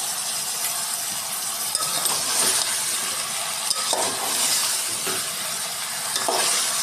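Vegetables fry in hot oil for a Telugu pappu charu, a lentil dish, while a spoon stirs them. A steady close sizzle runs throughout, with occasional metallic scrapes and clinks from the stirring.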